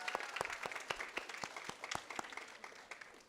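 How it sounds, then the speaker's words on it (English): Audience clapping at a school fifth-grade moving-up ceremony: a steady round of applause with a few sharp individual claps standing out, moderately loud and continuing throughout. "let's give them a round of applause"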